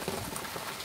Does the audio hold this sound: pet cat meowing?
no